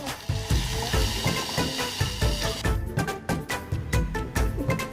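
Tempering frying in a pan for fenugreek leaf dal, a busy close sizzle with rhythmic stirring scrapes, turning sharper and more crackly partway through.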